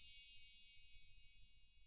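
A magic wand sound effect rings out as a bright, shimmering chime that starts at once and sustains for nearly two seconds at low volume, over a faint low rumble.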